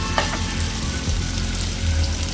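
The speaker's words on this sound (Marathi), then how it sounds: "थोडंसं फ्राय करून घेऊयात, कारण मी हे आधी फ्राय नाही केलेलं आता" Rice fries in a pan for a home-cooked paneer fried rice, giving a steady, close sizzle with a soft stir or scrape near the start and no talking.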